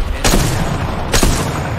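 Two heavy gunfire blasts in the Apex Legends battle-royale shooter, about a second apart, loud and close over a steady roar of game ambience.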